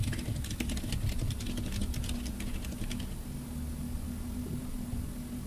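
Keys clack on a computer keyboard in quick irregular bursts for about three seconds, close and clear, then fade into a quiet hum.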